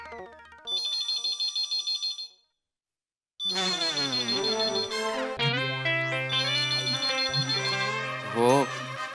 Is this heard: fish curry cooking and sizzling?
no